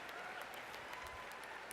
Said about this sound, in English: The men are applauding here.